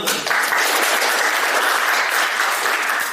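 A class audience at a teaching session applauds in a dense, continuous burst of many hands clapping, loud and even from start to finish with no talk over it.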